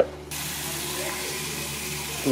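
Cut potato pieces poured into a bowl of water, a steady close rushing wash of water running on without pause, with a brief thump at the very end.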